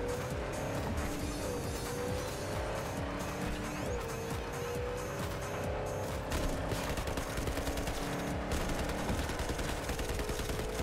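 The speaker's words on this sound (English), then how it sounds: "I'll shoot these guys." Dense gunfire rattles continuously over engine roar and high-speed road noise in the game Cyberpunk 2077, with steady loud bursts through the whole stretch and no voice.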